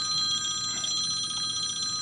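An electronic telephone ring trills continuously at moderate volume across the whole short stretch, steady and unbroken, with no voices.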